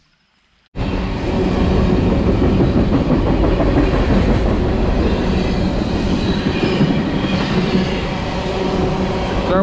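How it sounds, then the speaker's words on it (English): A train rumbles past close by after a brief silence, loud and steady with rhythmic clacking of wheels throughout. "So we're waiting for this train to pass again."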